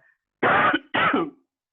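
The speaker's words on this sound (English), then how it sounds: "don't worry about my coughing" Two short, close coughs in quick succession, loud against silence, each a rough burst lasting about a third of a second.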